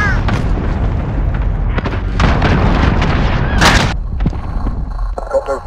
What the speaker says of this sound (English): Allied cruise missile on right.